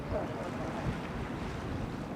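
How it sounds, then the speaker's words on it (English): Ocean waves and wind off Watamu, a low continuous wash of surf with rumbling wind noise on the microphone, fairly faint and steady, with no voices heard. "I could hear the ocean."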